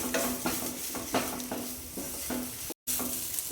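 Spice powders for pepper chicken curry are stirred in a pan on a low flame, rhythmic scraping strokes over a gentle continuous sizzle, close and alone.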